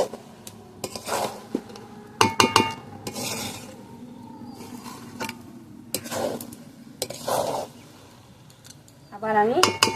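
A spoon stirs pulao rice in a pot, making scattered metallic scrapes and clinks in short bursts, with quiet gaps between them and a brief voice near the end.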